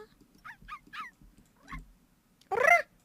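A pet dog in The Sims 3 gives a few short yips and whimpers, then one louder bark-like whine at the end, all close and clear against a quiet background.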